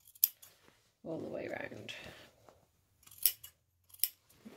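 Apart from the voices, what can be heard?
scissors trimming fabric of sewn sun hat brim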